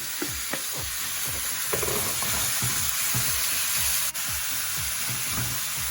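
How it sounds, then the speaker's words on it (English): Chicken sizzles and crackles steadily in a hot frying pan, with occasional stirring scrapes and no voices. "Oh, listen to that sizzle."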